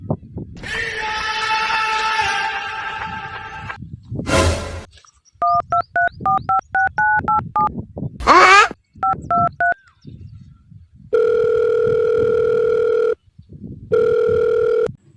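A burst of noise, then quick sequences of telephone keypad tones, a static crackle, and two long steady ringback tones.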